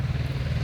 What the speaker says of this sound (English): I'm at a park, but it's on a very busy street